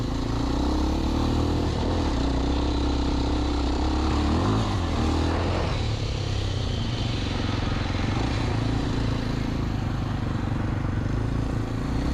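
A Kawasaki KLX 230 dual-sport motorcycle runs on a dirt trail, its engine loud and close with a steady drone and shifting revs throughout, over rough clattering from the ride.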